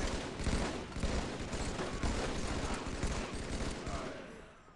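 Assault rifle fire in the video game Halo 3 comes as a loud, dense, sustained burst of rapid shots that runs almost the whole time and then tapers off at the end.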